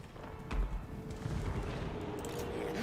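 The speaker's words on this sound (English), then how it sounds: "Poisoned wind mortar!" A poisoned wind mortar firing in Total War: Warhammer 2 gives a muffled thump and low boom early on, followed by a sustained rumble of battle noise at a moderate distance.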